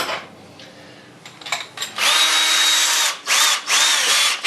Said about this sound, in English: I'm gonna flare this hole out just a little bit there, so when I put my screw in, it's gonna countersink.